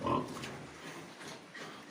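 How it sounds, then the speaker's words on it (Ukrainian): Pigs on a farm grunting, one close snort at the start and then fainter rooting grunts and snuffles over quiet barn ambience. "От такі свинки."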